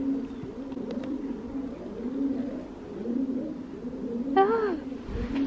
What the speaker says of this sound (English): The pigeons and they're nesting in the shaft.